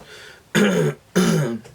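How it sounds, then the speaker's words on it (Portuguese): A man clears his throat twice, each a short, rough, close burst separated by a brief pause, with no talk. "Isso para mim é pigarrear."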